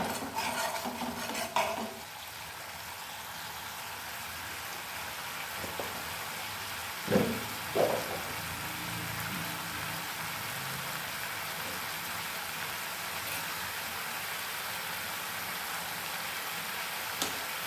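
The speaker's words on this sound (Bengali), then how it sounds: "এই মশলার কাঁচা গন্ধটা যাতে চলে যায় সেইভাবে এটাকে কষিয়ে নেব আমি" A spoon stirs a spice masala sautéing in a pan for a vegetarian raw jackfruit kofta curry, giving soft steady scraping with a quiet sizzle, two louder clinks of the spoon near the middle, and no talking.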